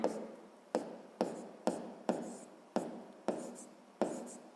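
A pen writes on paper at close range in a series of distinct scratchy strokes, each starting sharply and fading, about eight in a loose rhythm.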